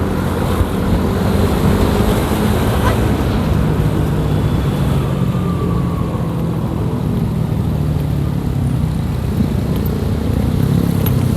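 A motorcycle rides along the road while overtaking, its engine a constant loud drone mixed with heavy wind rush, steady throughout with no talk.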